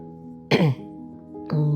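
A single throat clearing, close and sudden, then a shorter second rasp, over a steady low hum.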